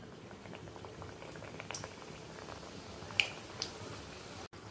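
Nonta snacks deep-fry in oil over a low flame, giving a soft, steady bubbling hiss with scattered small pops and a couple of sharper crackles, heard close but fairly quiet, without any voices.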